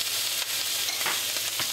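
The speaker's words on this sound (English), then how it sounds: "I'm just going to add this rather large knob of butter to let this sizzle and foam around the pigeon" A large knob of butter sizzling and foaming in a hot pan around a roasting pigeon with garlic and herbs, a continuous bright crackling fizz at close range, no talk.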